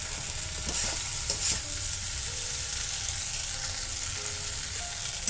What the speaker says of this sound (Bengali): আলুটা দিয়ে মশলাটাকে খুব ভালো করে কষে নেব